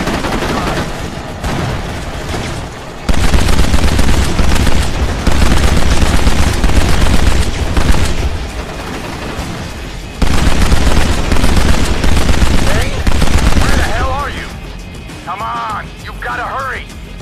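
Sustained gunfire from a Kane & Lynch: Dead Men firefight on the streets of Tokyo, loud dense bursts that swell and drop in waves, with shouted voices over the shooting and a lull near the end.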